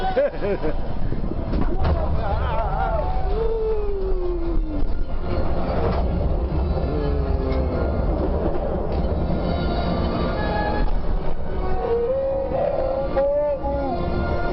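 Train effects on the Star Wars ride at Disneyland, loud rushing rumble with screeching squeals and clattering, layered with blaster-like sound effects and excited voices talking and shouting throughout.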